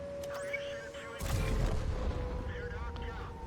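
A Foch 155 tank gun fires once in World of Tanks on the Kharkov map: a single loud, close boom with a rumbling tail, over a steady game hum and faint talk.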